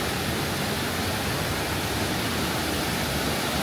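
Several waterfalls cascading at close range, giving a steady, loud broadband rush of falling water that stays even throughout with no voices.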